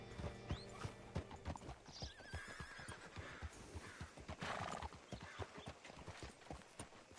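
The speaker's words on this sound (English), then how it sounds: "Hitch your horse up here." Steady clip-clop of horse hooves on hard ground in Red Dead Redemption 2, brisk and close, with a horse whinnying partway through; no voices.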